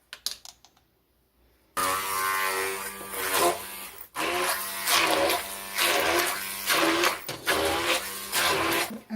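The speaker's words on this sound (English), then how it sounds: "I'm going to use my immersion blender" An immersion blender whirs in bursts through a pot of cooked winter vegetables and carrots for shepherd's pie, loud and close, pulsing on and off repeatedly after a quiet start.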